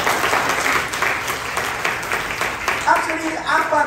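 A church congregation applauds steadily for several seconds, a dense, close wash of many hands clapping that swells slightly near the end.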